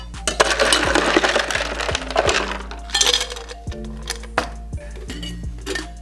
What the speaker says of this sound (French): On les remplit de glace.